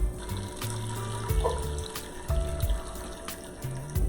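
Noodles, onions and mushrooms in broth are poured through a strainer into a bowl, a close trickle and splash of liquid with a few metallic knocks and a low hum beneath.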